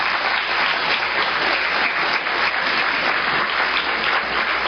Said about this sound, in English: just give our journalists a round of applause in advance